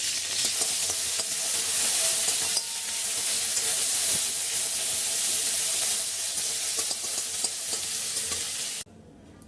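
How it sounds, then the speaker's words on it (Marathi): Curry leaves crisping in hot oil in a pan, a loud steady sizzle and hiss that runs continuously, then drops off sharply near the end. "कढीपत्ता यामध्ये परतून घ्यायचा आहे। छान असं क्रिस्प करून घ्यायचं आहे आपल्याला।"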